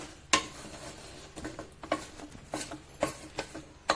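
Second coconut milk is poured into a cauliflower stew and stirred, giving soft scraping and clinking of a spoon against the pot in uneven strokes, with a faint sizzle underneath and no talking.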